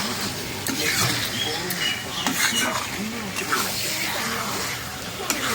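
Dried chicken pieces being stirred in a pan for kari chicken, a steady scraping sizzle with soft clatters and patters, fairly loud and continuous.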